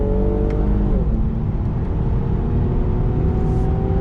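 A 2019 Infiniti Q60 Red Sport 400 with a twin-turbo engine pulls hard on a track, its loud engine note steady and droning, with a shift dropping the pitch about a second in.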